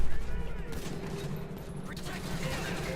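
Gunshots in GTA 5 crackle as a rapid burst, loud at the start and then thinning into scattered reports, with someone talking over them.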